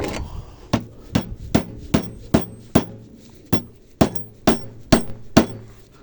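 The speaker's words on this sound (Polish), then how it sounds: "Młotkiem." Hammer blows strike metal in a steady series of about fourteen sharp, ringing hits while taking apart fans, close and loud, with no talking.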